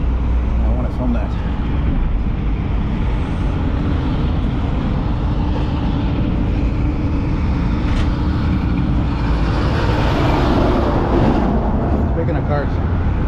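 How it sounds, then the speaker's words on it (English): Semi truck rig rolling past on a highway service road in Montreal's Lachine sector, a loud steady roar of engine and tyres building and fading over continuous traffic noise, with a brief air-brake hiss. "Oh man, there's a nice rig coming up."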